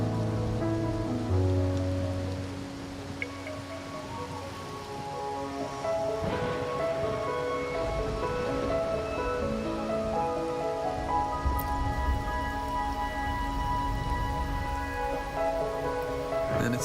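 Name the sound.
rain falling in the video game Wuthering Waves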